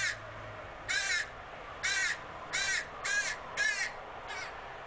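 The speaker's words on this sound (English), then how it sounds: "Maybe I should ask the crows." Crows in a town setting give six hoarse caws in an uneven series, fairly close, over a low background hum.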